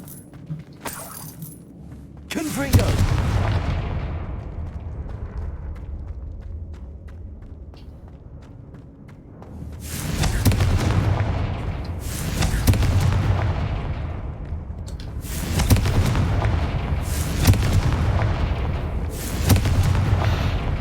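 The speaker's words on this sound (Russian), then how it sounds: "Вообще классное заклинание конфлинга. Она и поджигает, и взрывает." Repeated Confringo spell blasts in Hogwarts Legacy: heavy booming explosions, one near the start and then a rapid series of four or five in the second half, each with a rumbling decay.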